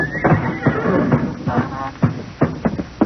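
Horses in barn stalls give several short neighs and whinnies, bursting out at irregular intervals among snorts and dull thumps of shifting hooves, close and fairly loud.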